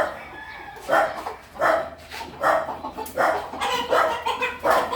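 Native chickens in Bulacan, with roosters crowing and clucking in repeated calls close by, each roughly a second apart, mixed with what may be dog barks.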